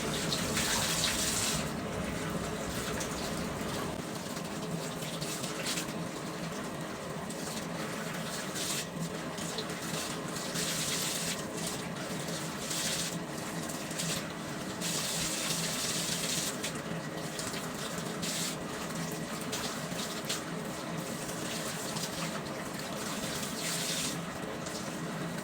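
Cool tap water runs steadily under strong pressure while a wig is being washed, a continuous close hiss and splash with no pauses.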